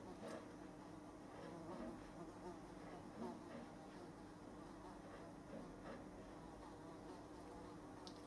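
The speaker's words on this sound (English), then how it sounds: "we weren't being buzzed by a huge fly" A large fly buzzes continuously close by, a faint steady drone that stays level throughout with no talking.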